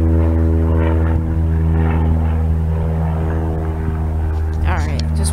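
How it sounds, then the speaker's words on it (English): A propeller aircraft takes off at Aurora Municipal Airport, its steady engine drone loud and continuous throughout, with a faint voice over it. "There goes the aircraft."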